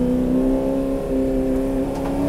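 A vintage race car engine drones loud and steady on a track, holding a sustained high whine through a downshift, with no voices heard.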